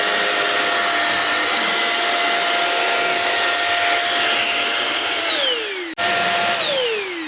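A Bissell 2254 CleanView Swivel Rewind Pet upright bagless vacuum cleaner runs with a loud, steady motor whine, then spins down as it is switched off, briefly restarts and winds down again.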